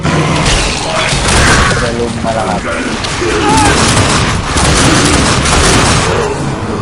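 Loud, dense bursts of grenade explosions and gunfire in the video game The Darkness 2 crackle continuously, with someone talking excitedly over the chaotic booms.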